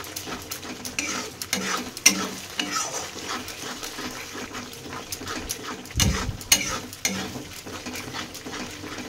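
A spoon scrapes and stirs masala with cashew paste frying in a pan for paneer makhani, a steady close sizzle with repeated scraping strokes and occasional louder clanks.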